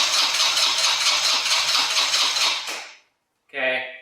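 A 4 wheeler ATV engine cranks repeatedly on half choke, a rapid rhythmic churning for about three seconds that fails to catch, then stops; a brief voice follows after a pause.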